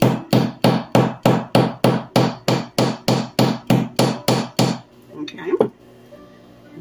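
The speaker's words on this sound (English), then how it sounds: "let's go ahead and hammer this other one" A hammer strikes a wire paperclip on a hard surface in a steady run of about fifteen loud, evenly spaced metallic blows, then stops, leaving a few softer handling knocks.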